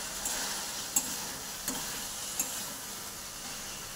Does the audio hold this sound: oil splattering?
yes